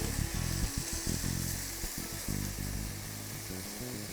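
Steady hiss and crackle of food frying in a pan, sizzling continuously with occasional stirring clatter, close and fairly loud, no voices.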